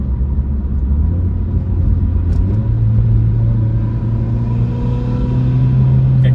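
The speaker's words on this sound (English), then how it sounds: "good intake noises" A Mitsubishi Evo X, rebuilt after a blown motor, revs in manual mode with a loud, steady engine drone that climbs in pitch as it accelerates, plus audible intake noise, close and continuous with no talk.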